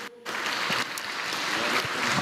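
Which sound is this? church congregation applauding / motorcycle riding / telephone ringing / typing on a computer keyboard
church congregation applauding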